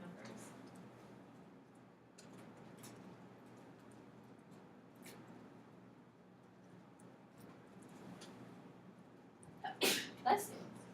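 A person sneezes twice in quick succession near the end, sharp and close, after a stretch of quiet room tone with faint talk and small noises in a classroom setting.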